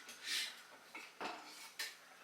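A small, too-short knife sawing through garlic bread in a home kitchen, with a few separate scraping strokes and light clatters against the board, close and fairly quiet, no talking.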